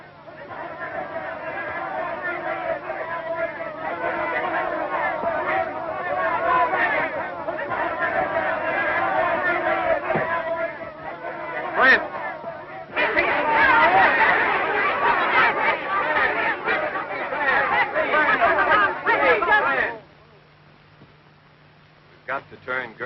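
An agitated frontier crowd clamoring, a continuous babble of many overlapping voices that swells louder midway, then drops off abruptly near the end.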